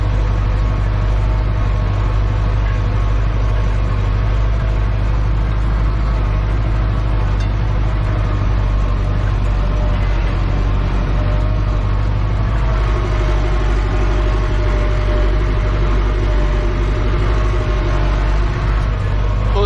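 A tractor pulling a deep ripper (subsoiler) across a field gives a loud, steady low engine drone that holds nearly unchanged throughout, with no pauses.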